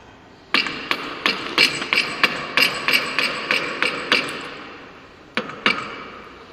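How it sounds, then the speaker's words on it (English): Sharp knocks of a wooden mallet striking a plain-edge chisel while cutting a carpentry T joint, in a steady rhythm, about a dozen close-up taps, then a short pause and two more hits. "with the wooden hammer help"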